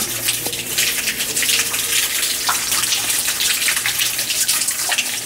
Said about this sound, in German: Jetzt stehe ich doch mal hier unterhalb des kleinen Wasserfalls.